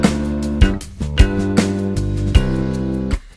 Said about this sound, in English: That's a minor 7th chord leading down a perfect fifth into a dominant 7th chord.